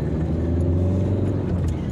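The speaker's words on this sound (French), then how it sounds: "il y a un camion qui arrive" A truck approaching on a road, heard as a steady, loud, low engine rumble that holds throughout with no other sounds over it.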